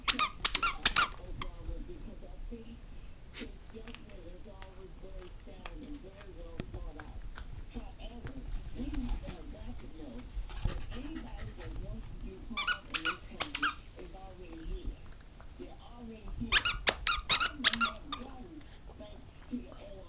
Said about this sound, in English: Do you like some squeaky toys?